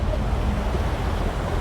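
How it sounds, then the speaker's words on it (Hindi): Rushing water along a dangerous trek to Belapur Waterfall, a steady loud broadband roar with wind buffeting the microphone and no talking. "ये देखो इतना जोर से पानी आ रहा है"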